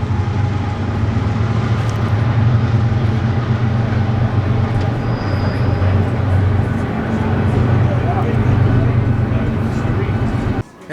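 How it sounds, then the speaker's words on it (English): A train passes near an outdoor restaurant, a loud continuous low rumble and rolling drone with people talking over it. "Wow, here comes train number 3."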